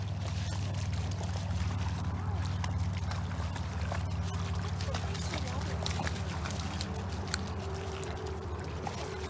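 An English Springer Spaniel swims and splashes in seaweed-strewn water, a steady wash of sloshing and dribbling close by, with people talking over it now and then.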